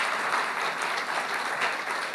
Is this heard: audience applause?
yes